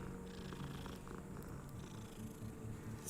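A grey cat purring in Hogwarts Legacy, a steady low rumbling purr that runs continuously at moderate volume with no talk over it.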